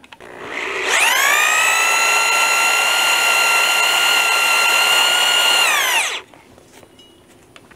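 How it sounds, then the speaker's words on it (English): A power drill bores a deep mortise hole into a timber girder for a covered bridge, one loud sustained high whine lasting about five seconds, close by, then cutting off into quiet. "I'm drilling these 5 1/4 inches deep."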